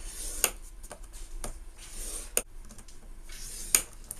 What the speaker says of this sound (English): So we place it in and we score every 1/2 inch all the way across.